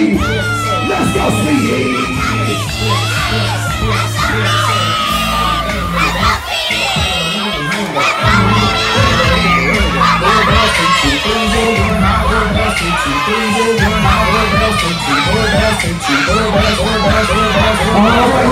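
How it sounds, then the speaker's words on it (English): A loud, dense crowd roars, cheers and whoops nonstop at a Tommy the Clown dance event, with children's shouts and yells rising and falling over the continuous din, and music pulsing beneath. "Make some noise for Sweetie!"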